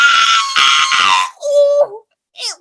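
A voice letting out a loud, ear-piercing screech in imitation, a long shrill cry followed by a shorter squeal and a brief high yelp, close and very loud.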